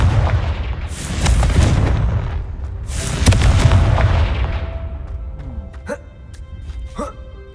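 Fiery Confringo spell blasts in Hogwarts Legacy on PC, two heavy booming bursts that roll out loudly, followed by quieter magical chimes and pops toward the end.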